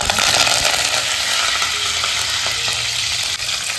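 Dry chillies, fenugreek seeds, cumin and curry leaves frying in hot oil for a South Indian sambar tempering, a dense, steady close sizzle throughout with faint stirring and no speech.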